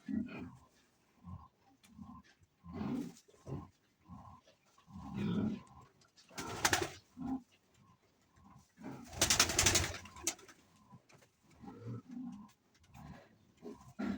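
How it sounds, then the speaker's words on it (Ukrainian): Soft, low pigeon coos repeat throughout, mixed with rustling, wing flutters and occasional muffled voices nearby. "Гарні голуби."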